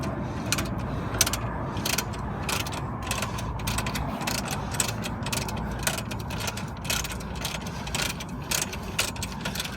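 A ratchet wrench loosens a bolt on a Mercedes E-Class rear air spring, producing rapid, repeated metallic clicks in close, irregular bursts with no speech.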